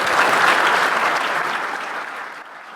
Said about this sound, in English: We give a big round of applause for Michelle.